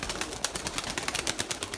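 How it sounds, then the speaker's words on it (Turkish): A flock of pigeons in a crowded sky, their wingbeats making a steady, busy flutter with a few faint coos mixed in, heard close and fairly quiet. "O kadar çok kuş var ki arkadaşlar anlatamam havalar."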